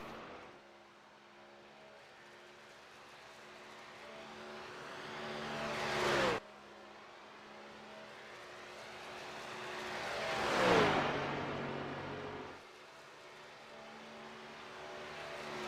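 NASCAR trucks in a racing video game at Texas Motor Speedway: a high, whining engine swells up and cuts off twice, with one pass-by that rises to a loud peak and then drops in pitch. There is no talking.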